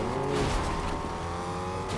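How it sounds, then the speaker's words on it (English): Car engine from Fortnite gameplay, driving steadily with a rattly, rumbling motor that stays loud and continuous for the whole two seconds. "Car's all rattled."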